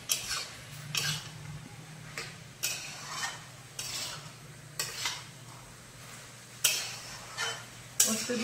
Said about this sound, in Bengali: পোস্ত দিয়ে শাকটা ভালো করে কষিয়ে নেব।